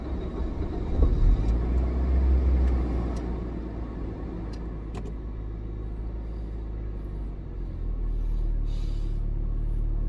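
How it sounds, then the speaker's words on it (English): A car engine starts with a brief burst and then settles into a steady low idle rumble, heard from inside the vehicle with no talk. "Let's start the car and see how it goes."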